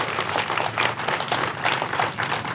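An audience at an arts hub dedication in West Colfax, Colorado applauds in a dense, steady wash of clapping that holds for the whole stretch without any talk.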